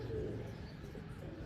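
Pigeons cooing and shuffling outdoors in a village: a low, soft, continuous cooing murmur, faint and muffled with no clear individual calls.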